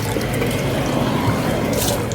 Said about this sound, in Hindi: इसलिए मैं अच्छे तरीके से इसको धो लेता हूँ।